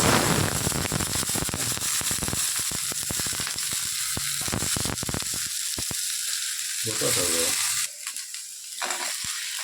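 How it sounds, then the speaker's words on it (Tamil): Onion, tomato and capsicum sautéing in a pan for a chicken roll filling, giving a steady close sizzle broken by sharp clicks and scrapes of stirring, quieting toward the end. "தக்காளி வெங்காயம் நம்ம போட்டு நல்லா இதை வசக்கி எடுத்துக்கணும்"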